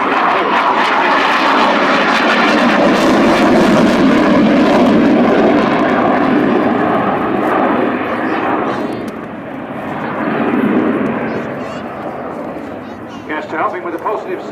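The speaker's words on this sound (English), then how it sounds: "Noz will roll the Typhoon inverted before pushing with negative G" A Eurofighter Typhoon FGR4 jet roars continuously during an airshow display at Waddington in 2013, a loud broad engine rush that swells and then fades slightly toward the end while a commentator talks over it.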